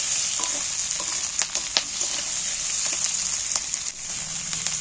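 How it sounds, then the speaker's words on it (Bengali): Garlic and onion fry together in a pan with a continuous bright sizzle, broken by scattered sharp crackles and spatula scrapes, close and alone. "এবার পেঁয়াজের সঙ্গে ভেজে নেবো রসুনটাকে"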